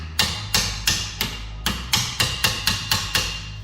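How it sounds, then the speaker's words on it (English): A hammer strikes a Fiat 500L's brake pads about eleven times in close, sharp metallic blows, spaced fairly evenly at roughly three per second, with brief ringing after each hit and no voices. "obviously I'm now going to need to take a hammer to that"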